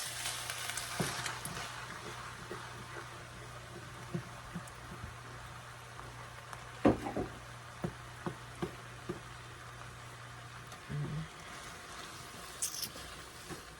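A beef and zucchini skillet with diced tomatoes and tomato sauce is being stirred, making a quiet, steady sizzle with scattered soft scrapes and taps of a utensil against the pan.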